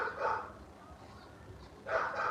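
Dogs barking in two short bursts, one at the start and one near the end, moderately loud with a quieter murmuring gap between them.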